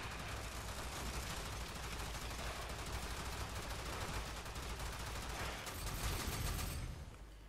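Tetra rifle fire in the Warframe video game, a dense unbroken stream of rapid automatic shots that stays loud and steady for several seconds, with a brief surge near the end and no talking.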